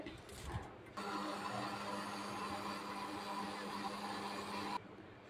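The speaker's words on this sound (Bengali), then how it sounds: "চলো মিক্সার করে নিয়ে আসি" Electric mixer grinder starts up and whirs loudly for about four seconds grinding ingredients for a Bengali potol and shrimp kofta, then stops abruptly, with faint kitchen clatter before it.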